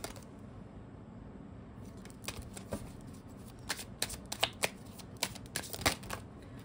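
Tarot cards being shuffled close by, quiet at first and then a run of crisp riffling flutters and soft slaps, with no voices.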